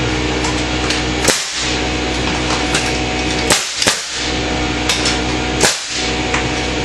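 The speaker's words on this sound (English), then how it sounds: "take my framing gun, I'm going to secure it at the top plate." A framing nail gun fires into a top plate, three sharp loud impulsive cracks spaced a couple of seconds apart over steady background noise, while trimming out a lally column.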